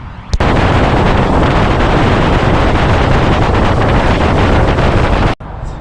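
Cold winter morning wind gusting over a microphone while fishing, a loud, constant buffeting roar that fills the whole clip and drops away abruptly near the end.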